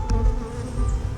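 Bees hum steadily around a frame of old comb during a swarm hive inspection, a close, continuous buzz with a few individual insects passing near.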